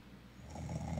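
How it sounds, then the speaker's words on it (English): Soft, low snoring rises into a rougher, louder snort-like breath, heard close and alone in a quiet room. "This is that snoring."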